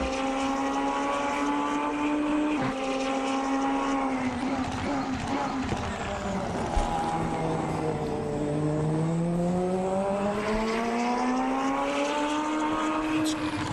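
Onboard engine of a GT500 race car in a racing video game at Okayama, a loud sustained high-revving drone that rises and falls through gear changes and a dip into a corner, heard alone.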